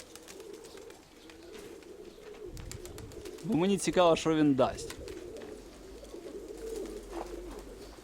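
Pigeons coo in a brief burst of throaty, warbling calls outdoors, rising out of low background noise while people talk nearby before and after.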